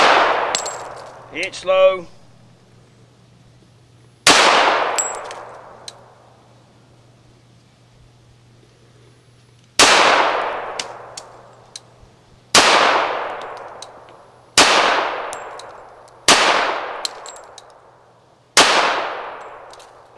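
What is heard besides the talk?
pistol shots from a Colt Combat Unit hitting steel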